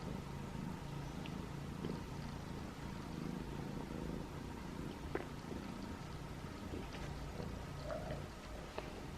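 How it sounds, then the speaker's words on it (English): A tabby cat, once feral and now being socialized, purrs with a faint, steady low rumble close to the listener. "Can you hear him purring?"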